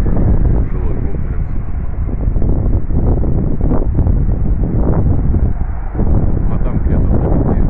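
Steady, cool wind blows outdoors in Gagarin Park in Yuzhno-Sakhalinsk, rumbling constantly across the microphone with rustling gusts throughout.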